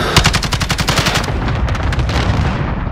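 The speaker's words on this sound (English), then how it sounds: "Cluster strike away." Cluster strike in Call of Duty Modern Warfare, Shoot House team deathmatch: dense rapid barrage of loud explosive blasts and gunfire-like cracks, steady and relentless throughout, fading slightly toward the end.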